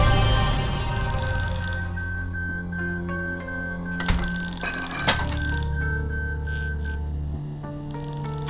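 Inside a mystery video game set at a deadly exhibition, an alarm bell rings steadily and loudly in a sustained electronic tone, with a few clinks and short breaks in the ringing.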